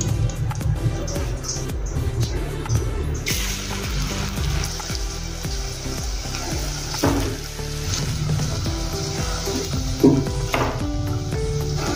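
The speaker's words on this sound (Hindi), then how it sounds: "अच्छे से इसको तलेंगे मीडियम गैस के ऊपर" Chakli frying in hot oil over a medium flame, a steady bubbling sizzle that runs throughout with occasional louder pops and clatter near the end.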